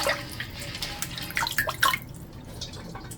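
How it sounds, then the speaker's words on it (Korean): Bean sprouts being rinsed in water in a kitchen, with soft splashes and drips close by that grow busier for a moment, then fade to quiet trickling. "콩나물도 깨끗이 씻어서 물기를 빼요"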